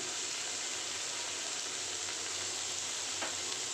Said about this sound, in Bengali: এখন ভালো করে ভেজে নিচ্ছি